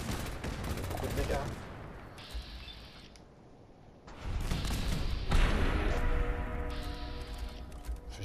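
A cryo minigun firing in Fallout 4, sustained rapid bursts of automatic fire that stop briefly and then resume, with sharp mechanical clicks between them.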